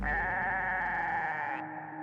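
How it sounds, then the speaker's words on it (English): A goat bleat sound effect: a single long, wavering, nasal cry held for about a second and a half, then cut off abruptly, loud and close. "all that was left behind was a goat"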